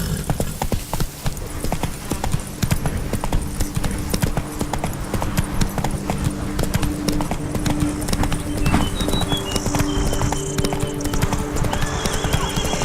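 Hooves of the horse Roach clip-clop at a steady gallop in The Witcher 3: Blood and Wine, loud and continuous throughout, with a whinny rising near the end over game music and ambience.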